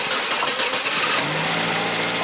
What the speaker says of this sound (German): Dann einfach noch mal probieren zum Starten.